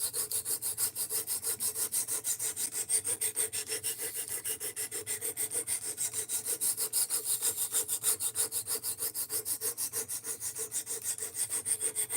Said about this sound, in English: We're sharpening to 17 degrees per side